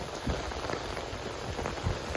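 Steady heavy rain hisses over a rice field, with scattered louder drops and patters striking nearby surfaces, fairly quiet and without any voices.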